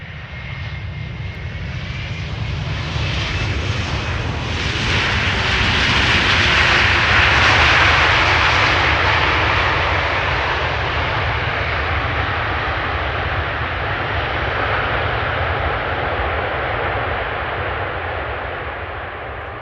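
A Delta Airlines jet arrives on the Polderbaan runway at Amsterdam Schiphol with a loud, continuous engine roar. The sound swells to a peak as the aircraft passes close, then slowly fades as it rolls on.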